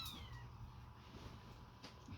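Newborn kittens meow faintly, with a few thin, high cries over a quiet, steady background hum at close range and no talking.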